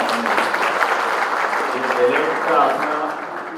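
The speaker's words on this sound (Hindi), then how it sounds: "एक बार जोरदार ताली बजाओ।" An audience at a board exam results announcement bursts into dense, sustained clapping that holds steady throughout, filling the room at close range.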